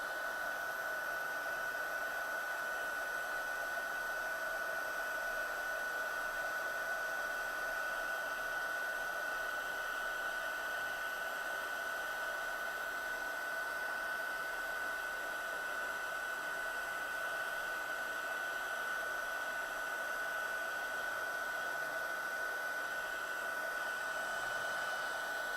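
A heat gun blows steadily while heat-setting embossing powder on a handmade birthday card, a continuous close whooshing hiss with a faint high whine, unbroken and with no talking.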